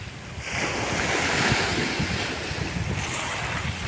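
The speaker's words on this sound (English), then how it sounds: "I thought I'd show you some nice relaxing waves." Sea waves surge and break in a loud, steady wash of surf at Southsea, Portsmouth, UK, with wind buffeting the microphone throughout and no voices.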